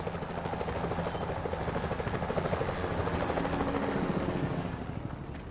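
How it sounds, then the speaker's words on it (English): A security helicopter in the video game Sly Cooper: Thieves in Time, a loud, steady rotor chop and engine drone that holds throughout without talk. "Those security choppers are bad news."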